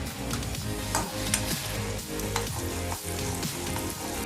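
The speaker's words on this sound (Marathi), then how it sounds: "आता चालले आहे कढईमध्ये कांदे, लसूण जिरं पेस्ट, 1 चम्मच धनिया, हळद आणि चवीपुरते मीठ" Onions with garlic and cumin paste sizzle loudly in a kadhai, joined by coriander, turmeric and salt, a dense steady frying crackle close up with faint stirring scrapes and no talking.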